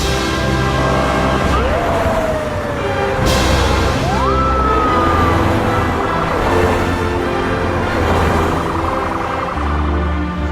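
Wailing siren sweeps rise and fall over a steady roar of heavy traffic, loud and continuous throughout.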